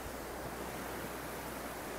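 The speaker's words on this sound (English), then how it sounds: "So here's the river." River rushing below a hanging bridge in Quezon, Nueva Vizcaya, Philippines, a steady broadband roar of flowing water with some wind, continuous and loud with no voices.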